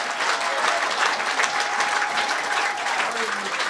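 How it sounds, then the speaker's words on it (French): A church congregation at a seminar applauds Jesus with sustained, dense clapping from a large crowd, steady and loud throughout, with faint voices mixed into the ovation. "Acclamez Jésus pour cela."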